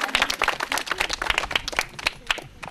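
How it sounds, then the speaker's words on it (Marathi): A quiz-show audience breaks into loud, dense clapping for a contestant who answered correctly, a close burst of many hands lasting a few seconds. "जोरदार टाळ्या त्यांच्यासाठी"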